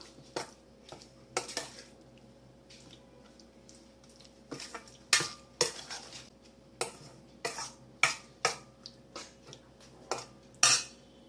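Chicken pieces are mixed in a tikka marinade in a bowl, with irregular clinks and scrapes of a spoon against the dish, quiet between bursts and growing busier toward the end, no talking.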